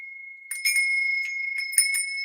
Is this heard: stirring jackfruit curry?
no